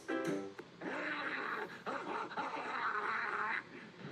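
A man imitates a dog barking during a live news report, giving a run of gruff, yelping barks with a nasal, duck-like quality, loud and close, with no other talk heard.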